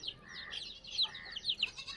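Desi chickens clucking and calling on a poultry farm in summer, several birds with overlapping high, nasal clucks close by over a low steady background.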